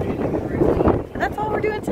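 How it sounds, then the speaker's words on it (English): Strong wind on Curacao buffets the microphone in heavy rumbling gusts, with a person talking briefly over the roar. "it is windy"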